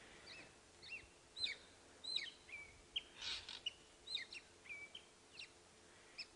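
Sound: bird chirruping call, imitating a scrub robin

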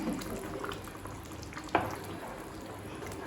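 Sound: chutney boiling in pot

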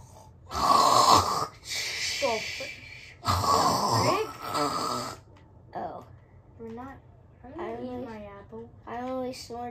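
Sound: person imitating snoring while playing Minecraft

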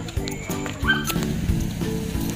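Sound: dogs barking

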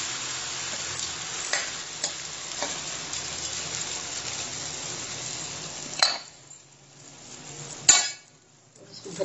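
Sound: mustard seeds frying in oil on a tawa

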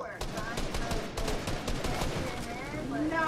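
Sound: gunfire in Fortnite video game

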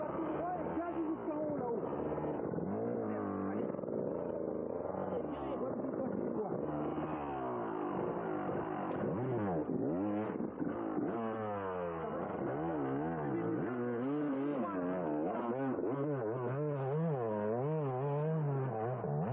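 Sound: enduro motorcycles racing, including a 125cc bike

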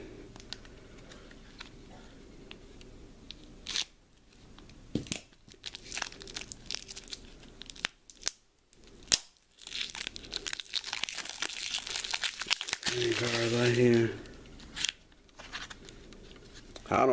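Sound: tearing open the wrapping of playing card packs

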